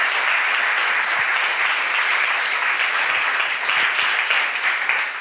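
Sustained applause from a conference audience after a talk, a dense wash of many hands clapping, steady and loud throughout without talking.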